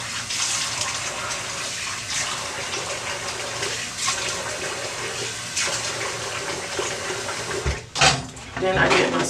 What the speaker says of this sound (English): so then I just rinse this with cool water.